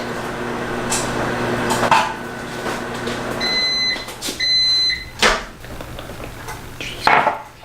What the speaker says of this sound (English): bring it into the microwave. And so we're just gonna put it in for 10 to 15 seconds